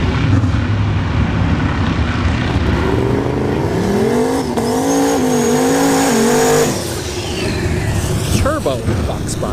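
A turbocharged Fox body Mustang runs at a drag strip test-and-tune session. Its loud engine roars and climbs through the revs over a noisy track background, then drops away into the distance.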